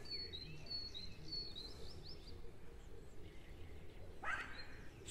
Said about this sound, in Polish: Śpiew ptaków.